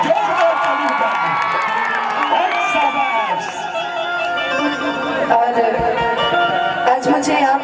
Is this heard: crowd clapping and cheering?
yes